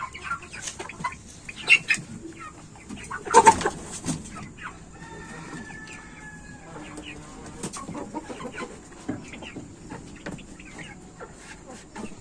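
Chickens cluck and call close by while pecking at fermented bran feed, with scattered clucks and a louder burst of activity early on over a quiet farmyard background.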